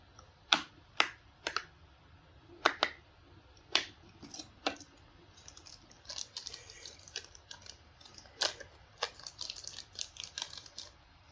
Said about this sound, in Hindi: स्क्रीन से रैपर उतार लेते हैं। बैग इसके हम खोल लेते हैं।